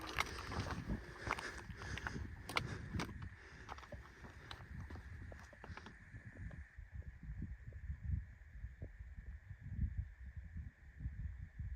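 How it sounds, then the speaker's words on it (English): Wind blows across the south rim of a mountain in Big Bend, a soft, steady rush with gusting rustle that thins after the first half, faint and alone with no talk. "The wind, nothingness."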